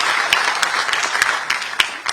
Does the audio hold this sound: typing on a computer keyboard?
no